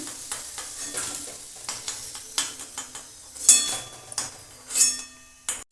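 Potato pieces sizzle softly in a pan as a utensil stirs and scrapes them, with repeated light taps and a few sharper metallic clinks against the pan.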